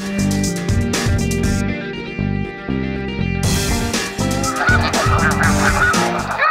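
A dense flock of snow geese honking loudly and continuously, many overlapping nasal calls forming a constant clamor.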